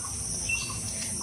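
Faint bird calls ring out in a mango orchard near a village homestay, soft thin chirps over a quiet background hum, briefly and at a distance.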